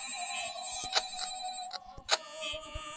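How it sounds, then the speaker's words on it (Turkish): Telephone ringing in the video game Five Nights at Freddy's, a bright electronic ring with repeated sharp tones, fairly quiet with small clicks and thumps around it, no talk. "Allah'ım yine telefon çalıyor."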